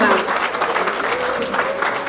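Audience applause at a Nepali honour ceremony, breaking out as a producer's mother is draped with a shawl; dense, steady clapping fills the short stretch at an even level with no clear voices.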